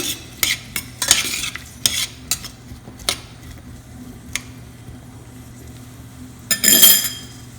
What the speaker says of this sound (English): I'm going to wait till onions fry a little bit. Mix them well.